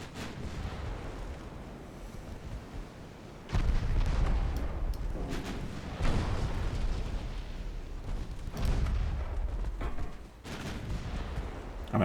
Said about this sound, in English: Defense torpedo going out